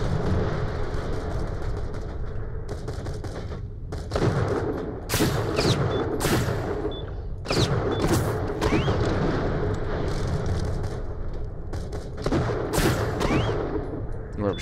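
A Borderlands The Pre-Sequel firefight: bursts of loud video game gunfire and grenade booms come in clusters over constant background rumble, with heavy blasts recurring every second or two.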